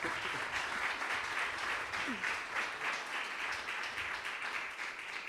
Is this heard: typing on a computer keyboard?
no